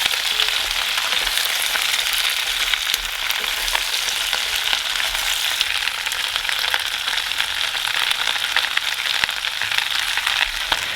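Pork belly and bok choy sizzling hard over high heat in a stir fry, a continuous bright crackling hiss with occasional stirring clicks, close and loud, no talking.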